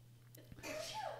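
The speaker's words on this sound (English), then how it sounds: "just sneezed in the background" A single sneeze from someone in the background, brief and moderately loud, followed by a longer breathy trailing sound, over a steady low hum.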